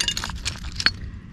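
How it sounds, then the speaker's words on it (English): Shards of crockery and glass on a beach clink together as they are handled, a few light, scattered taps and chinks over soft background noise, with one sharper clink near the end. "and then some nice bits of crockery, glass, more crockery"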